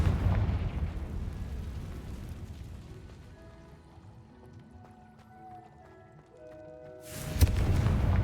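A Confringo blasting curse exploding in a Harry Potter video game: a heavy booming rumble that rolls and fades, a quiet tonal stretch, then a second loud burst near the end.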